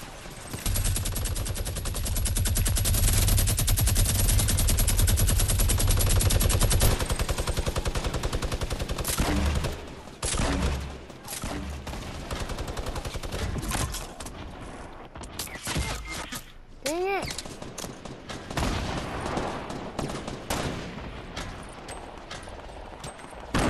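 Fortnite gunfire from a 50v50 match: a dense, continuous burst of rapid shots for the first several seconds, then scattered sharper shots and game effects, fairly loud throughout.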